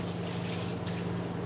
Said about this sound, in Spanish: La voy a enjuagar mis manos, pero con agua fría.